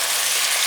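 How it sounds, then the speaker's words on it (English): Tomatoes sizzling and frying in melted butter in a pot for a steak soup, a steady, close, broadband crackle with no talk. "Trying to get them melted in the butter."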